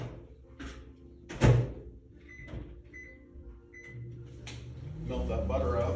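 A microwave oven melting butter for a zucchini bread batter in a home kitchen: a few sharp clicks and a beep-like tone, then a low steady hum as it runs, with a voice speaking at the start.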